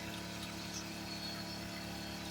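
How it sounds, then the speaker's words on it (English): Water poured into chicken broth in a cooking pot, a soft continuous liquid rush with faint gurgling, fairly quiet and alone without voices. "And we add a little bit of water to it."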